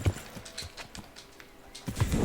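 Horse hooves clip-clopping in the medieval video game Kingdom Come: Deliverance, a run of soft, irregular footfalls at moderate distance over quiet ambience, swelling louder near the end.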